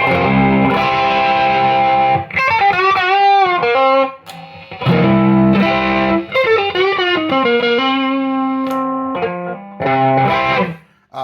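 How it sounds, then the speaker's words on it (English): An electric guitar, a Schecter Nick Johnston HSS Strat-style model, plays loud sustained notes and fast melodic runs through a high-gain distortion pedal, with phrases separated by brief pauses. "Plugged into a Schecter Nick Johnston HSS Strat thing. High gain distortion."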